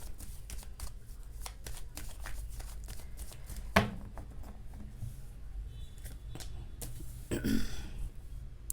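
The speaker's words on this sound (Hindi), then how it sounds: "जब तक मैं कार्ड शफल कर रही हूँ।" Tarot cards shuffled by hand during a reading, giving soft repeated riffling and patting clicks with one sharper snap near the middle and a brief flurry near the end. Close and quiet, with faint room noise.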